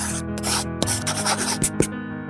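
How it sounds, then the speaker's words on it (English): Sandpaper is rubbed over an adhesive-coated surface while preparing to lay architectural interior film, making a few short close rasping strokes with a low hum in the background. "smooth the adhesive surface with sandpaper and remove foreign substances with a hairbrush"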